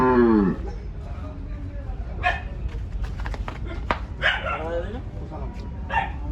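A water buffalo at the Gabtoli cattle market gives a short, loud low call, followed by busy market chatter, voices nearby and a dog barking.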